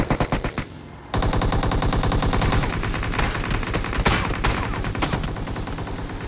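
Sustained automatic gunfire in PUBG Mobile, loud and close, opening with a few spaced shots, then a dense, continuous rattle of rapid bursts that carries through to the end.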